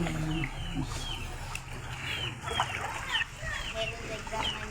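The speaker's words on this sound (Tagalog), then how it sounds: "Mga manok." Chickens cluck and chatter in short overlapping calls close by, with voices and background noise underneath, during flooding.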